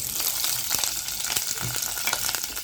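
Loud, steady sizzling of chopped vegetables frying in hot oil after mustard seeds, with crackles and occasional stirring scrapes throughout and no voices.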